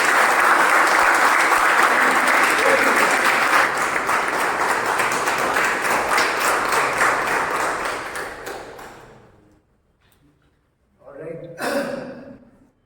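An audience at a speech-club meeting gives a long, dense round of applause for four evaluators. The clapping stays loud for about eight seconds and then dies away to near silence, and a brief burst of voices and laughter follows.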